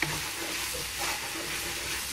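Flour stirred and cooking in a hot pan for shepherd's pie, a steady close sizzle with soft scraping running evenly throughout, no voices.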